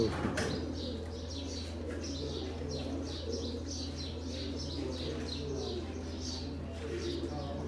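Sialkoti pigeons coo softly and repeatedly in the background, with scattered chirps over a steady low hum, no voices present.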